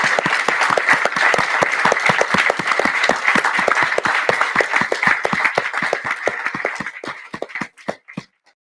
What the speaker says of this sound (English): have a big round of applause for our speakers and for Seven.